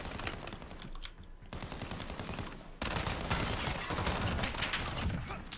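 Dense, sustained automatic fire from the CR-56 AMAX rifle in Modern Warfare, a 25-round magazine emptied in rapid rattling bursts with a brief break, loud and close with no talking.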